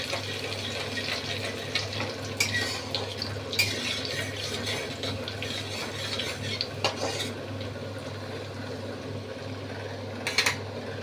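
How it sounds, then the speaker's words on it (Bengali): Spices with bay leaf and chopped ginger frying over low heat in a pan for a shahi chicken gravy: a steady soft sizzle under a low hum, with occasional clinks and stirring scrapes. "মশলাগুলো একটু ভাজবো।"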